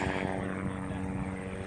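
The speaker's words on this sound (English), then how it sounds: "Got helicopter presence." A helicopter flies overhead outdoors along a protest fence line, its rotor and engine a steady, moderately loud drone that holds without a break.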